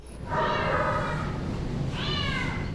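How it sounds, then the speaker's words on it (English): A cat at an SPCA shelter meows twice, two long drawn-out cries separated by a short pause, close and clear over a steady background hum. "Cats are, they only meow."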